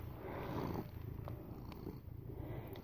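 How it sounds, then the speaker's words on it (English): A kitten purrs steadily up close, a continuous low rumbling throb with no talking, ending with a few small rustles. "Look, she's a kitty."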